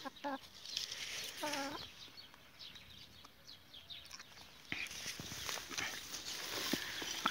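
A chicken clucks in short, scattered bursts close by, with soft rustling and scratching between the calls.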